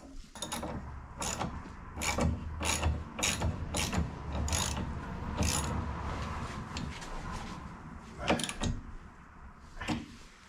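A ratchet tightens the nut on a Hyundai Elantra strut in short bursts of loud, close clicking, with pauses between strokes and a low background hum, and no talking.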